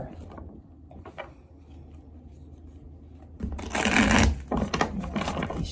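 Cards are shuffled in a quick riffling burst after a quiet stretch with soft handling sounds, close and fairly loud.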